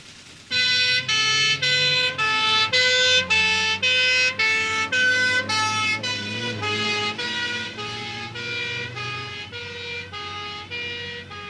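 Emergency vehicle sirens wail in a steady two-tone alternating pattern at a 1969 British motorway accident, loud and close at first, then gradually fading as the vehicles pass.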